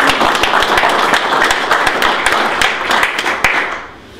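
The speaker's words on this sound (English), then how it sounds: "can we have a wee round of applause," Sustained audience applause at a small gathering, dense clapping filling the whole stretch at steady loudness before tapering off near the end, with a few sharper individual claps standing out.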